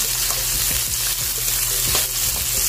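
Tomatoes tossed into a pan of frying chicken and sayote sauté, giving a steady close sizzle with faint stirring scrapes, no voices.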